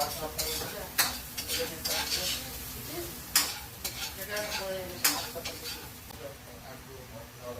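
Vegetables sizzle steadily in a hot pan while a utensil stirs and scrapes against it, with occasional sharp metallic clanks.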